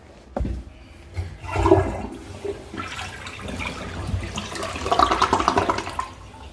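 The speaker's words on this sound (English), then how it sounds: "Flushed it 4 times." A toilet flushes nearby with a rushing, gurgling swirl of water that swells, eases, then surges again toward the end.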